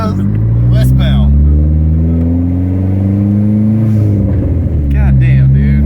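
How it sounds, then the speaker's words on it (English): A Dodge SRT-4 with a new exhaust revs loudly and drives past nearby, its deep droning exhaust note rising and falling steadily throughout, with brief voices of people talking over it. "If you lose him, just stop and listen for that motherfucking exhaust"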